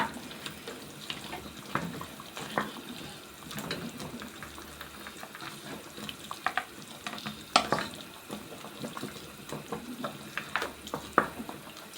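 Soup with garlic being stirred in a pot, with irregular spoon scrapes, knocks and wet swishing over a low bubbling simmer that continues throughout.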